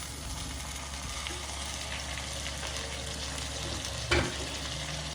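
Tomatoes frying in a pan for a brinjal mash give a steady, soft sizzle throughout, with one brief clatter near the end.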